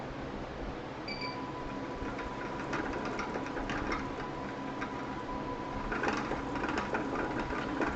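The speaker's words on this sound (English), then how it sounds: "I'm just quickly winding a new bobbin." A home sewing machine winds a new bobbin, a steady whirring motor hum with a faint rapid ticking running through it, heard close and alone in a quilting studio.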